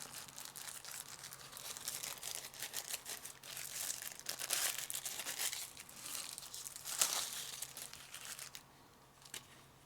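A plastic bag crinkles and rustles close by as a Wuben PL01 penlight is pulled out of it. The crackles come in irregular bursts throughout, with a few sharper crackles, and the sound dies away at the very end.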